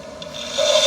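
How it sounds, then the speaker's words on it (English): An electric drill spinning in reverse on a GM 496 8.1 Mercruiser marine engine cylinder head during reconditioning, a steady close whirring rub that grows louder and higher toward the end, with no talk. "now I turn the drill in reverse"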